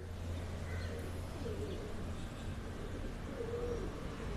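A golden highflyer pigeon coos softly a couple of times in a loft setup in Islamabad, faint low calls over a steady background hum.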